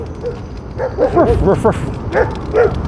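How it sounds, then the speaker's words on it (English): Dogs bark and yip in a quick burst of several calls at night on a street in Stockbridge, Georgia, reacting to a squeaky scooter passing by; the barking is fairly close and loud. "We're going to hear those dogs coming in because they'll obviously hear me in the scooter."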